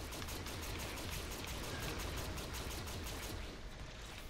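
Rapid gunfire while shooting down enemies in Warframe, a steady stream of pistol shots forming a dense, continuous rattle at moderate level with no talk.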